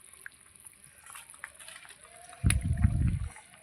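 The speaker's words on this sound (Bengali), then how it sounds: "ভাজা তেলাপিয়া মাছগুলো দিয়ে দিচ্ছি।" Fried tilapia pieces go into a pan of simmering curry broth, landing with a single close, wet sloshing splash that lasts under a second. Before it there is only a faint, quiet kitchen hush.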